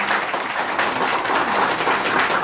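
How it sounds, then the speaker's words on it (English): A short burst of steady audience applause at the close of a sales training session, dense and even throughout. "let's give him a round of applause here"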